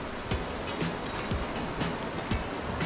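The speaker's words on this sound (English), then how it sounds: "Funny old river stream, eh?" Rushing water of a river stream in Portland, Jamaica, a steady broadband wash with recurring surges like small waves breaking, continuous and fairly close with no voices.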